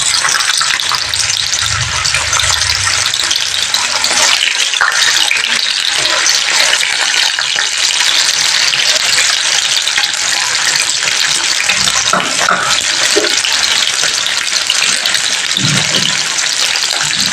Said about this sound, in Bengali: পনিরগুলো আমি এবার এক এক করে তেলের মধ্যে অ্যাড করে দিচ্ছি।